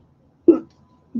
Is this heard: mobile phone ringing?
no